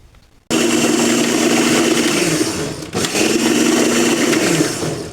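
An electric mixer beats flour into orange sponge cake batter, starting abruptly with a loud, steady motor whir that dips briefly midway and then resumes.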